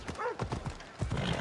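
Rhythmic hoof clip-clop of a horse galloping in a video game, with a brief whinny-like tone, fairly loud and close over the steady game backdrop.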